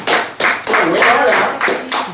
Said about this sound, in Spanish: Así que, ¡el aplauso!